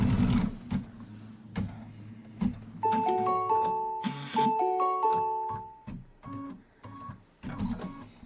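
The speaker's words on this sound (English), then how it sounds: "It's going to stitch a diagonal stitch line there" A home embroidery machine stitches a diagonal line across flat quilt fabric held in a hoop, its motor giving bursts of whirring and pitched mechanical tones, with pauses and short clicks between runs.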